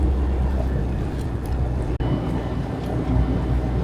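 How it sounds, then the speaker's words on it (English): A vehicle engine drones steadily from inside while driving on the NC500 route in Scotland, a constant low rumble with broadband road and wind noise and one brief dropout. "sorry about the noise over the engine"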